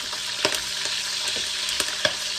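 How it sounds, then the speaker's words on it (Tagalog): Pork sizzles steadily in a hot pan for fried pork sinigang, with dense continuous frying crackle and a few sharper spits and pops of spattering fat over it, close and fairly loud. "Hayaan nyo yung, yung karne na matunog dyan."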